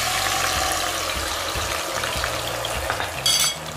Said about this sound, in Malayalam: ഇനി ഇതിലേക്ക് നമ്മുടെ മാറ്റി വെച്ച ഗ്രേവി ഒഴിച്ചു കൊടുക്കാം.